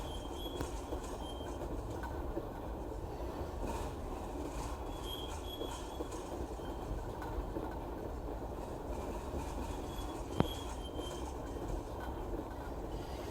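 A passing freight train of storage box cars, empty hoppers and loaded crude oil tank cars on the Lakeland & Black Valley Railroad rumbles steadily and faintly at a distance, with a brief sharp wheel squeal partway through.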